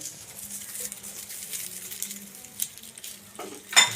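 Sunflower oil heats in a pan during a home chicken meal being cooked in village style, giving a quiet close sizzle with faint stirring clicks and a sharper clatter at the end.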